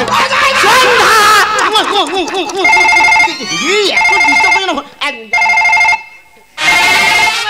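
A telephone rings in several loud, bursting trills separated by short gaps, mixed with giggling, playful voices.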